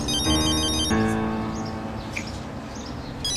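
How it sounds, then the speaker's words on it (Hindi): A mobile phone ringtone plays a melodic electronic tune for an incoming call, with a short pause before it repeats, fairly clear and alone at moderate loudness. "देखो, डेनिस का फोन आया है।"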